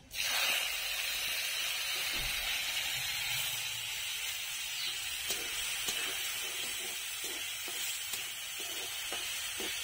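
Mustard seeds tempering in hot oil for a tomato dal, a steady close sizzle and hiss holding from start to finish with faint pops and stirring scrapes underneath.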